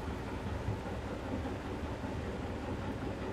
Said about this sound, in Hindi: बादल भी गरज रहे देख सकते हो